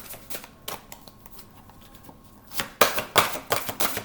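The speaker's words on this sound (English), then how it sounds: "So let's pull a couple of oracle cards." Oracle cards are shuffled by hand: a few soft flicks, then a run of loud, crisp riffling bursts close up near the end.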